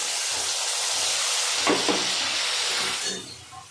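Spice paste hits hot oil seasoned with whole garam masala for an Afghani malai egg gravy, giving a steady loud hissing sizzle that eases off toward the end.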